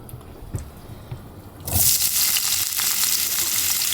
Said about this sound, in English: And then we're going to get that frying up.